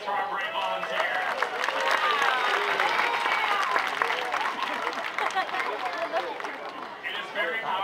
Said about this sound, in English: Can we get a round of applause for our brave volunteer?